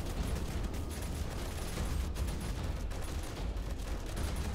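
Automated turrets firing in 7 Days to Die, a steady, dense stream of rapid gunfire that rattles on without a break at close range, with no speech over it.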